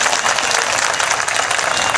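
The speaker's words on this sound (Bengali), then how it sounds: "শওকত মোল্লার জন্য একটা জোরে হাততালি দিন এখানে বসে।" A crowd at a political rally in Bhangar claps loudly and densely, a close, packed burst of applause with no pauses.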